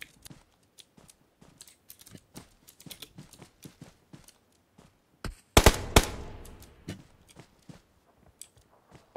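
Sniper rifle fire in the battle royale game PUBG Mobile, a big loud crack and rumbling echo near the middle, with many sharp clicks and lighter shots scattered before and after.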